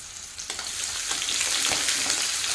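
Chopped onion and crushed garlic cloves fry in hot oil, a steady close sizzle with a few stirring scrapes and no talking.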